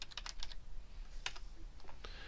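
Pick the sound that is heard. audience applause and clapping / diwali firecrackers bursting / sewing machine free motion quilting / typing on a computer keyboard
typing on a computer keyboard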